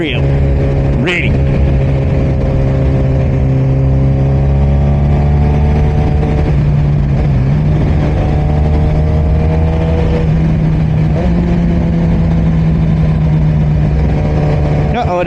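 A Suzuki GSX-R 1000 motorcycle engine drones loud and close at a drag strip, holding a steady idle-like pitch that rises and falls in a few gentle revs, with a sharp click early on.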